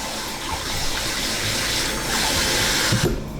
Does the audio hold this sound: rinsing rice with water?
yes